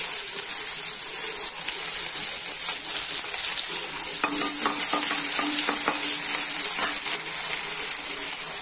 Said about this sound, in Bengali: এখন আমি কড়াইতে তেল দিলাম, তেল দেওয়ার পর আমি এখন পেঁয়াজ দেব